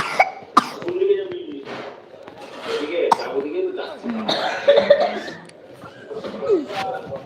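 Several close coughs and throat-clearing sounds come in scattered bursts, mixed with people talking and short chuckles in a room.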